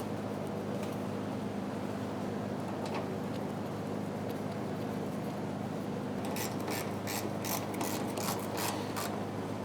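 A ratchet tightens the two fuel tank bolts on a 2010-2013 Kia Soul, its rapid clicking bursts heard close over a steady background hum, most clearly toward the end.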